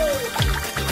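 Juice pours from a special tap into a glass in a short, close, splashing gush with soft liquid gurgles, lasting about a second.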